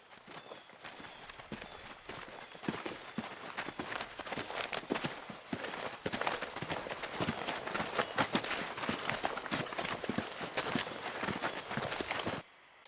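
Footstep sound effects in a sound-design edit, a steady run of rapid, crisp impacts on a hard surface that continues for about twelve seconds at a fairly even level, with no voices.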